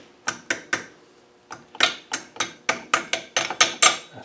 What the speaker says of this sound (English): let's have a little hammer.